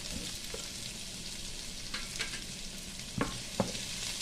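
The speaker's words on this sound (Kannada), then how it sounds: "ಜಾಸ್ತಿ ಫ್ರೈ ಮಾಡಬೇಕಂತಿಲ್ಲ, ಸ್ವಲ್ಪ ಫ್ರೈ ಆದರೆ ಸಾಕು" Onion, garlic and ginger masala frying for restaurant-style mutton masala, a dense close sizzle with a few sharp scrapes and taps of a spoon against the pan.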